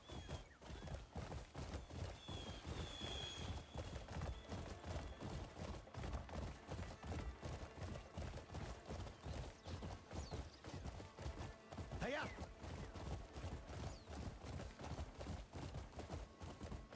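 Steady rhythmic clip-clop of horse hooves trotting continuously at a moderate, even pace, with a brief whinny-like sound partway through, from the video game Crimson Desert.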